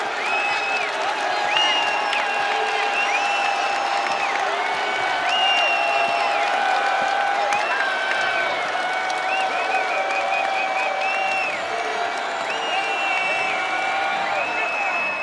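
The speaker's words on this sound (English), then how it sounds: "the crowd is on their feet" Basketball arena crowd at a college game between UNCW and Charleston cheers and applauds steadily and loudly, with whoops and sustained roar throughout, a whistle-like tones and announcer voices faintly under the noise.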